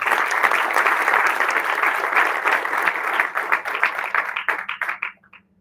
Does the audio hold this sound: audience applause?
yes